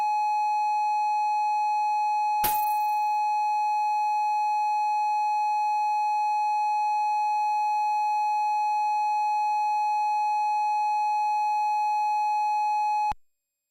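A steady electronic tone from a Victrola playing a record in the 1987 Commodore 64 game Maniac Mansion, sounding as one continuous loud beep after a brief noisy click, held unchanging for about ten seconds before cutting off abruptly.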